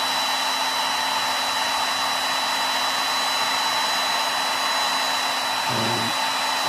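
A hair dryer blows steadily on a watercolor painting of a goldfinch, a constant close whir with a faint low hum, briefly shifting in tone near the end as it is moved.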